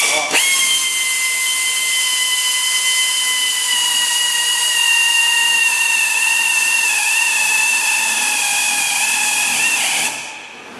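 A power drill drilling into the metal firewall of a 1968 Camaro whines continuously at a high, steady pitch for about ten seconds, loud and close, then spins down abruptly.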